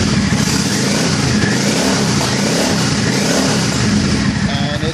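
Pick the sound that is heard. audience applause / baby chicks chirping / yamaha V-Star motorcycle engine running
yamaha V-Star motorcycle engine running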